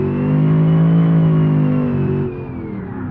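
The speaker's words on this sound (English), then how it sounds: "Too much gear whine." A car in BeamNG.drive with a swapped-in 427 engine revs hard and steadily, a loud droning roar with strong whine, then the pitch drops and settles lower toward the end.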